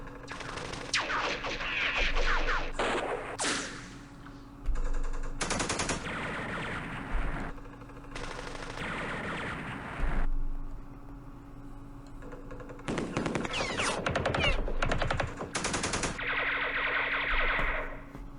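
Bursts of automatic gunfire from a Middle East wargame, loud and repeated in several volleys with echoing tails and brief pauses between them, no talking.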